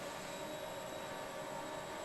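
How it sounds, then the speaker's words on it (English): Formula 1 cars at the US Grand Prix in Austin, Texas, in a racing video game, hold a steady, dense engine drone as revs build before the start lights, continuous and even with no talk. "The revs rise for the 5 red lights."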